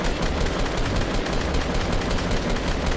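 Dense, continuous automatic gunfire from Fortnite Battle Royale, loud and close, a rapid unbroken stream of shots from start to finish with no speech.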